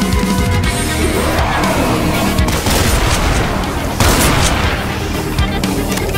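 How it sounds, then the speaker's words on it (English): Shotgun fire in the video game Doom Project Brutality, booming blasts mixed into a dense, loud barrage of gunfire and explosions that continues with heavy hits near the start and around the middle. "Let's change to shotgun."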